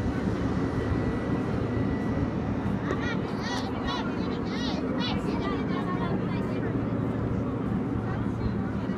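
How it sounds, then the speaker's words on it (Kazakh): A train generator car roars steadily and loudly at close range on the Atyrau–Almaty express, a broad continuous rumble with someone speaking over it. "Генератор вагоннан әдейі өтіп кеттім. Дауысы қатты шығып тұр ананың да."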